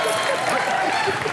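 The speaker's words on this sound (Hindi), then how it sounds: "जोरदार तालियां।" A studio audience at a Hindi TV comedy show claps loudly and steadily, a dense, even wash of applause with no pauses.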